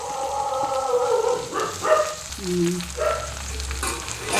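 A stir-fry of drumstick leaves and ivy gourd being turned in a pan, with soft sizzling and a few scraping, clattering stirs up close, plus a low hum in the background.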